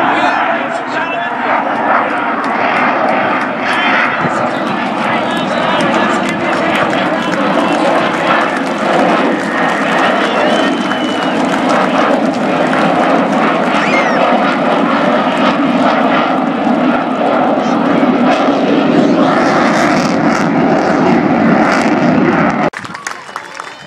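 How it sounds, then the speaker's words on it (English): At an air show, an F/A-18 Hornet jet makes a high-speed pass, producing a loud, continuous roaring rush that holds for over twenty seconds before cutting off abruptly. An announcer and crowd noise sit under the roar. "Hornet high-speed pass"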